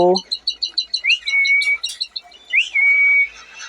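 Small pet birds, a male and female pair in an aviary, chirp in quick repeated tweets up close, with a couple of longer rising whistles, a short voice sound at the start.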